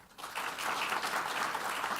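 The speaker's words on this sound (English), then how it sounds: "Brian, clap." Brian claps along with a small group during a stream and wetland restoration meeting, giving a short, fairly loud burst of steady clapping after a quiet start.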